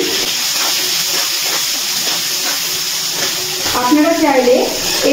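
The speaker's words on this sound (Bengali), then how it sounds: "নুন আর হলুদ দিয়ে ভালো করে আলুটা ভেজে নিচ্ছি।" Potato pieces fry in oil with turmeric and salt, a loud steady hiss and sizzle that swells with stirring toward the end.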